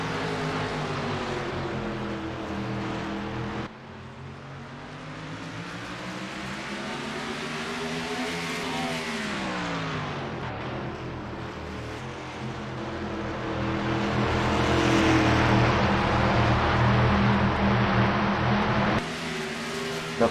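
Race cars roll off together at the start of a 100-lap race at Martinsville, a sustained engine drone that rises and falls in pitch as the pack accelerates, heard from a distance with no talk.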